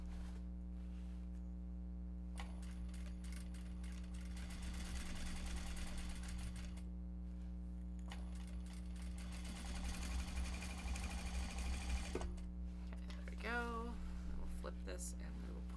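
A sewing machine stitches fabric bags in a workroom with a steady low mains hum. Longer runs of rapid needle chatter alternate with pauses, and a voice speaks briefly near the end.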